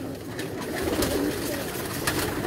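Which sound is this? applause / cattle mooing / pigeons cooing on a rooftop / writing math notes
pigeons cooing on a rooftop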